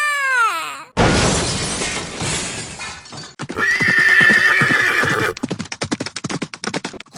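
A cartoon horse whinnies loudly, followed by a crash and a burst of shrill neighing, then rapid clip-clop galloping hoofbeats close by near the end.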